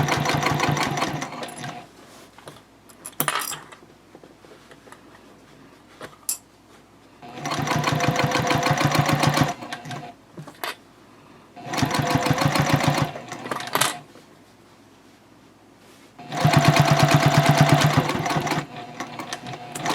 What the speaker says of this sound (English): Now, to close up that piping, you're just going to stitch straight across.